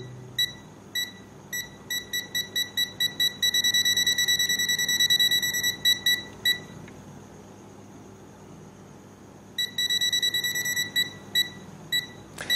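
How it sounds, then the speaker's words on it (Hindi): A UNI-T UT33-series palm-size digital multimeter sounds its buzzer as the probe nears a live wire: bursts of sharp, rapid electronic beeps, first short and spaced, then long continuous runs, then quick pulses again, loud and close with no talking. "जितना करीब करते जाएंगे उस हिसाब से हमें बजर की आवाज भी आएगी।"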